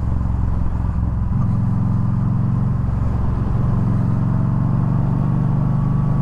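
A Yamaha V Star 1300 motorcycle cruises with a steady, loud low engine drone that shifts pitch slightly as it rides, heavy wind rush over the mic, and no talking.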